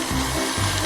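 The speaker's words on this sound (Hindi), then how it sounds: "पालक को ब्लेंडर में भर दिया। एनी, मुझे फिर से तुम्हारी मदद की जरूरत है। प्लीज इसे पीस दो।" A blender grinds spinach for a food-challenge cocktail, a brief, loud, steady motor whir with no pauses.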